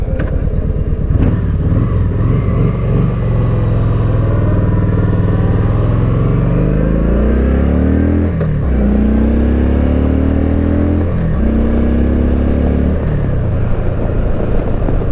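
A Kawasaki Vaquero bagger motorcycle accelerates hard, its engine note climbing steadily in pitch, then dropping sharply at each of three gear shifts before rising again, loud and close throughout.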